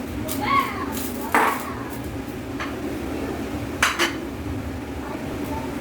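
Pots, dishes and kitchen utensils clatter as they are cleared away after cooking, with a few sharp clanks standing out over a steady background hum and faint voices in the room.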